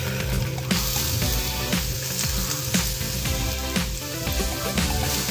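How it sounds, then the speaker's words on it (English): Minced ginger fries in hot oil, giving a loud, continuous close sizzle with light stirring scrapes for a stir-fry of king prawns and asparagus in garlic sauce. "Let's fry this first. Okay, let's fry the ginger."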